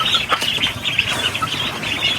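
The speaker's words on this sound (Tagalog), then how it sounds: "Mga lalaking itik po ito." A group of male ducks kept apart from the females on a small farm that also raises turkeys, giving a busy, noisy stretch of fluttering wings and scattered bird calls close by, with no talk.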